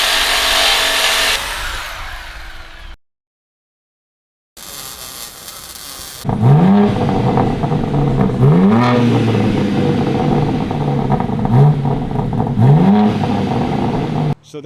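A 2024 BMW M3 Competition with mid-pipe, X-pipe and resonator delete exhaust idles roughly, then barks through several sharp, loud revs in quick succession, close by, after a brief silent gap.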